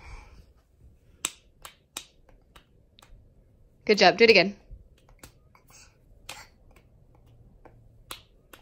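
A toddler claps out a short rhythm during a home music lesson: sharp single hand claps, spaced apart and fairly close, with an adult voice talking and praising in between.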